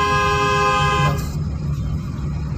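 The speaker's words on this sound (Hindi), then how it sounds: "लॉन्ग हॉर्न पुश करिए" A car horn blares in one long, loud, close honk during a driving lesson, holding steady for about a second before cutting off to leave the engine and road noise.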